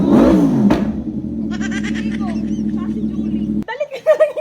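A motorcycle engine revs and pulls away, its loud rising whine fading after a few seconds. Voices and chatter are heard over it, and the engine cuts off near the end.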